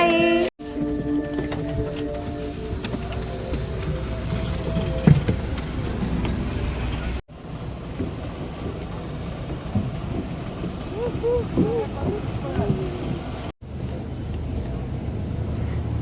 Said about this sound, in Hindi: इस बस में बैठ के जा रहे हैं